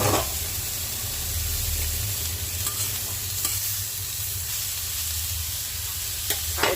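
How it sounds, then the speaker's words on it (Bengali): Grated carrots for carrot halwa fry in a pan, giving a steady, close hiss and sizzle throughout, with a few faint spatula scrapes and taps and no talking. "অনেকক্ষণ ধরে ভাজবো"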